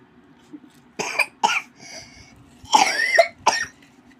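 A young child coughs in several short, harsh bursts with brief pauses between them, close to the microphone in a quiet room, with one longer rasping fit near the end.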